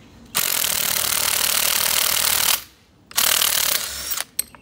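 Impact wrench with a 22 mm socket removing a suspension bolt on a Mk6 Golf or Jetta, two loud, close buzzing hammering bursts separated by a brief pause, ending in a few quick rattles.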